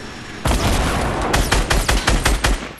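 A video game gun fires in a battle-royale style match, a burst of loud close shots: a sustained blast and then a rapid series of sharp cracks in quick rhythm, with no voices over them.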